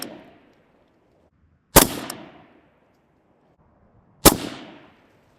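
An AR rifle fires at a target 50 yards away. Two loud, sharp, separate shots are heard a few seconds apart, each followed by a ringing decay, and the tail of an earlier shot fades at the start.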